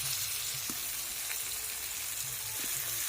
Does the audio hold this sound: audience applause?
no